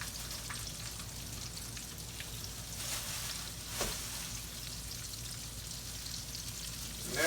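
Catfish frying in hot oil gives a steady, soft sizzle and crackle throughout, with a few louder pops, and no talking.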